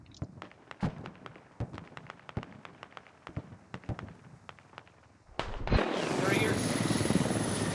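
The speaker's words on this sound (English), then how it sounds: "Heli's putting down some players just in the face of the enemy." Helicopter in a military video game setting down troops near the enemy, a loud whooshing rotor and engine roar rising suddenly and holding steady after a stretch of scattered sharp gunfire cracks and thuds.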